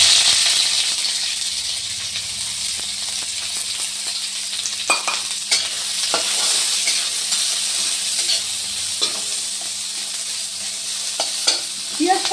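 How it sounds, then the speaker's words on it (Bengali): Onion and garlic fry in mustard oil in a kadai, giving a continuous hissing sizzle with occasional clinks and scrapes of stirring, close by and with no talking. "রসুন এই তেলটার মধ্যে ভেজে নেব।"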